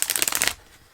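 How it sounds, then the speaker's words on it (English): Tarot cards are shuffled in a fast riffle of crisp, papery flutters for about half a second, close and loud, then fall quiet. "some of you do like seeing the shuffling, so let's do it together"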